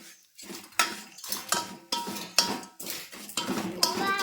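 Vermicelli roasting in cooking oil in a pan is stirred with repeated clanking, scraping strokes of a utensil against metal. The strokes come in a regular rhythm, up close and fairly loud, with no talking.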